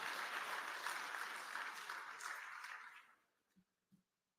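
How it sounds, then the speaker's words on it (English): Audience applause at a regional meeting of Caribbean heads of government, a steady dense clapping from a crowd that fades out after about three seconds, leaving a couple of faint isolated claps. "I would invite you to clap for that"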